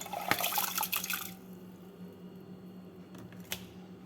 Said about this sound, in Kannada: ಆರ್ಕ ಅಕ್ಕಿನ ಈ ನೆನೆಸಿರೋ ನೀರಿನ ಜೊತೆನೇ ಟ್ರಾನ್ಸ್ಫರ್ ಮಾಡ್ಕೊಳ್ತಾ ಇದ್ದೀನಿ ಪ್ರೆಷರ್ ಕುಕ್ಕರ್ಗೆ